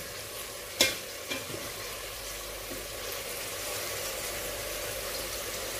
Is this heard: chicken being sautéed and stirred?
yes